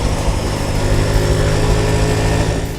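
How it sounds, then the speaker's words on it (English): A Suzuki Gixxer motorcycle engine runs steadily up close, a smooth, even buzzing drone at constant loudness with no voices. "the Gixxer's engine sounds nice too, without being noisy, and it has smooth revs"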